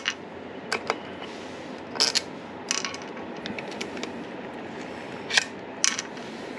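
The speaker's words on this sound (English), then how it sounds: "So I'm gonna go ahead and yank those screws." Screws pulled from the frame of a Begode T4 Pro electric unicycle give a handful of sharp, quiet metallic clicks, spaced irregularly over a soft background hush.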